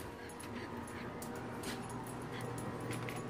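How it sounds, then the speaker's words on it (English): A dog whimpers and yips in soft, brief cries over a constant background hiss, faint and fairly close. "That's my dog, Peggy."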